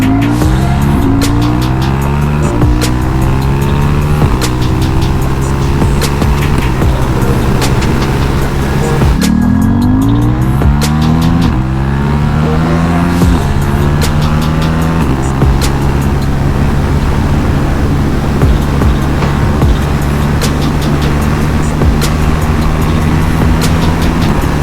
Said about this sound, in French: On va essayer de la pousser un petit peu dans les tours avec le shifter pour vous montrer un peu le bruit qu'elle fait.